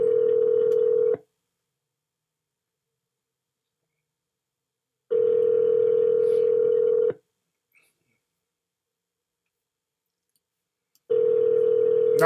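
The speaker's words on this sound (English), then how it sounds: "Now he ain't answering the phone." An outgoing telephone call rings back in long tones, each lasting about two seconds, separated by roughly four seconds of silence, loud and clear with no talk.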